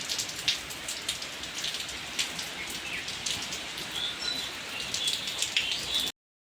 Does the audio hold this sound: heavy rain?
yes